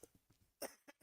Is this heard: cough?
yes